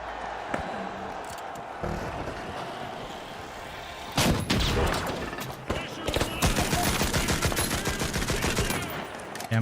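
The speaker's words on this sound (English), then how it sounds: "I'm shooting behind him constantly" Rapid gunfire rattles through a video game arena match, with sparse shots at first, then dense bursts of automatic fire that grow louder and more constant toward the end, with talk underneath.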